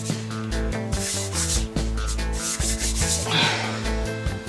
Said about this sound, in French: Un petit coup de ponceuse pour nettoyer le socle